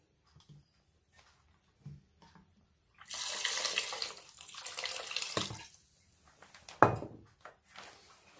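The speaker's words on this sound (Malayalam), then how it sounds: "ഇനി ഇതിന് ആവശ്യമുള്ള വെള്ളം ചേർക്കണം." Water pours into a pot of sambar in a home kitchen, a rushing splash lasting a few seconds, followed by a brief second burst, with light clatter and quiet pauses around it.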